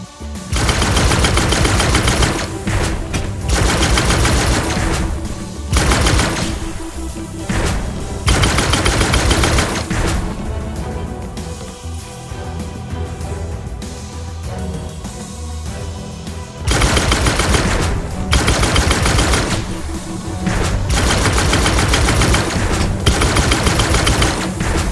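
Sustained rapid automatic weapon fire in the video game Gunnhildr, loud and dense, running in long bursts with brief pauses and a quieter stretch midway.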